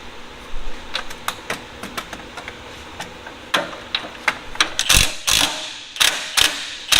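A ratchet wrench cracks loose the upper and lower suspension link bolts on a third-generation Toyota 4Runner during a Dobinson lift kit install, giving close, loud bursts of rapid clicking that speed up and grow denser toward the end.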